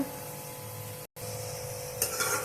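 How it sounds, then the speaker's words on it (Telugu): Tomato frying in oil in a pan for mutton curry, giving a steady close sizzle with a brief break midway and light clinks of a utensil near the end. "పచ్చివాసన పోయిందాక ఈ టమాటా ఆయిల్లోనే వేస్తాను, మగ్గిస్తా కొద్దిసేపు, నూనె పైకి వచ్చిందాక."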